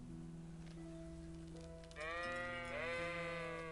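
Sheep bleating in a video game, with rising and falling baa calls from one or more animals over a steady droning game soundtrack, the bleats growing louder and overlapping in the second half.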